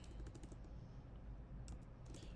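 Quick, soft clicking of keys on a computer keyboard, a fast irregular patter close by with no talk over it.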